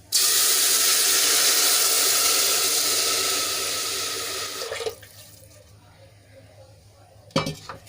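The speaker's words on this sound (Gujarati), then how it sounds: "તો અહીંયા હું છ કપ પાણી એડ કરું છું" Water pours steadily into a pot of rice and lentils for Gujarati khichdi, a loud continuous splashing stream that tapers off at about five seconds, followed by quiet and a brief clink of kitchenware.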